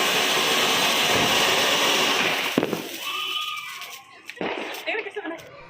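Diwali firecrackers bursting outdoors in a loud, dense roar of crackling and hissing for a few seconds. It then falls off to scattered sharper pops and fizzes, with voices talking underneath.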